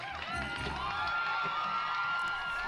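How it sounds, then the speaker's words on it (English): A crowd cheering and whooping at a recorded bongo performance, a dense continuous roar of voices, distant and steady throughout. "The crowd goes wild."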